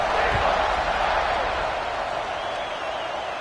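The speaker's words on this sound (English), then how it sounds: "this crowd is buzzing after that last score" A packed stadium crowd at an Auburn versus Notre Dame college football game keeps up a loud, steady roar after a score, with no break across the few seconds.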